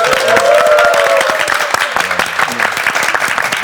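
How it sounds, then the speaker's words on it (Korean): A television studio audience of fans applauds steadily and loudly throughout, with a dense crowd of clapping hands and a few voices calling out beneath. "예, 박수 한 번만 부탁드립니다."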